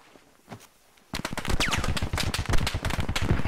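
After a quiet second, close, loud machine-gun fire breaks out in a fast, sustained stream in the military shooter Squad, continuing to the end.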